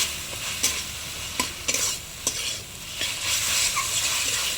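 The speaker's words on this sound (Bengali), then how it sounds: "এবার আমি চিকেনটা দিয়ে দেবো" Chicken added to a hot pan of oil with turmeric, chili and cumin powder sizzles loudly and continuously, broken by several clattering knocks of a spoon stirring against the pan.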